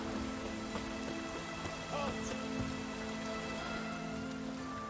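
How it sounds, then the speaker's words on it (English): Steady rain falls in the video game The Witcher 3, a constant wash of droplets with faint speech-like sounds in the background. "Looks like rain."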